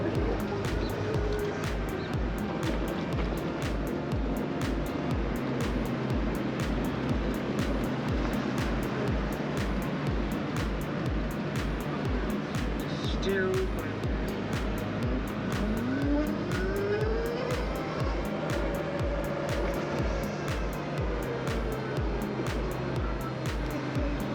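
A Zero SR/F electric motorcycle rides along steadily through New York City with a continuous whirring hum, rapid rhythmic tire thumping over a rough surface, and constant wind noise.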